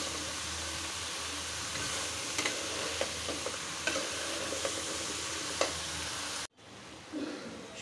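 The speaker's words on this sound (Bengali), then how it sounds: "এখন কষায় নিব।" Mixed vegetables sauté in hot spiced oil for a dried fish curry, a loud, close, steady sizzle with scraping stir strokes that cuts off abruptly near the end, leaving quieter room sound.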